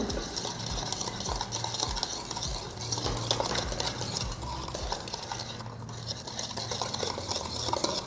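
Sponge cake batter is beaten by hand in a bowl, a continuous rapid scraping and tapping of utensil against the bowl in a steady rhythm, close and without voices.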